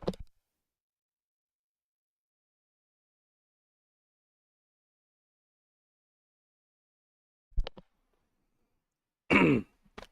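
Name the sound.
cough and throat clearing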